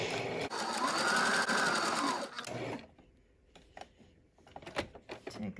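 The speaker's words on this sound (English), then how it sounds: "you're just gonna do a 1/4 inch seam around the rounded edge" A sewing machine stitches a quarter-inch seam around the curved edge of a cable-tie reinforced fabric face mask, running in one steady, close whir for about two and a half seconds before quieter handling noises follow.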